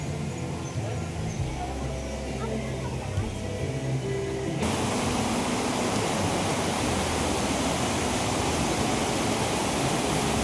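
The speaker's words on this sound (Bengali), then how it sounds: "ফলসের এই সাউন্ডটা সো স্যাটিসফাইং।" Waterfall near a mountain trail on the way to Changu Lake, a steady broadband rush of falling water that swells louder partway through and then holds, roaring continuously with no talk over it.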